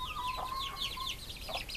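A mother hen clucks softly among four newly hatched chicks on a farm, with high, busy peeping from the chicks running throughout and a few low clucks from the hen, close and steady.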